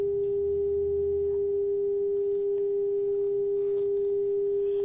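A steady pure test tone from a loudspeaker in a quiet room set up for sound insulation measurement, holding one constant pitch throughout with faint background noise underneath.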